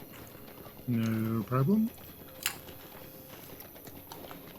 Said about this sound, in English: I was still on my stable master's horse.